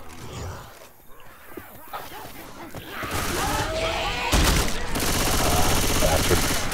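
Gunfire in the zombie shooter Left 4 Dead 2, on The Parish, starts as scattered shots and thumps and builds into loud, sustained bursts in the second half, with shouting players heard over the fighting.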